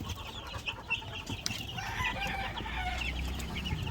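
Chickens on a farm cluck steadily around a batch of growing chicks, with overlapping near and mid-distance calls and occasional sharper squawks filling the whole stretch without any talk.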